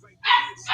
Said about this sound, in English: Excuse my dog. He's bugging right now because he wants to play.